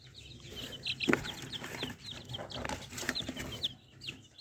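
Many ten-day-old chicks peep in high, rapid chirps that overlap continuously, with occasional soft clucks and shuffling close by.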